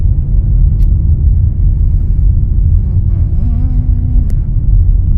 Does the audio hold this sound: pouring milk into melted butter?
no